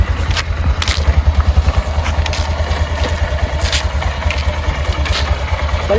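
A motorcycle engine runs close by with a throbbing low pulse that quickens briefly, then settles into an uneven idle with light clattery ticks.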